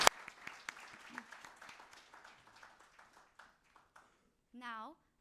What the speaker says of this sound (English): Guys, please give a huge round of applause.